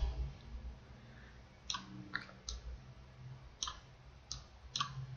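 A computer mouse clicks several times while an eye outline is traced in Photoshop. The clicks are soft, sharp and scattered unevenly over a quiet low hum in the room.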